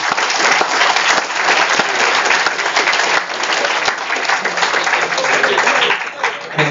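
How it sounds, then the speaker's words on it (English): Sustained, dense applause from a workshop audience honoring panel speakers, a steady wash of many hands clapping for several seconds, loud and close with a few sharper individual claps standing out. "A huge round of applause for our panelists"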